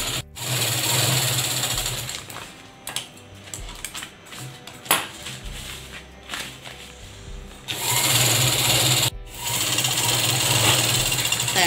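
Sewing machine stitching fabric edges of a cloth document cover, a close, loud rapid mechanical whir in bursts with short pauses between runs, no talking over it.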